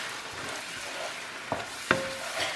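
Cooked mushrooms with flour and milk being stirred in a pan, a soft, low hiss punctuated by two brief clinks of a utensil against the pan, close and quiet with no voices.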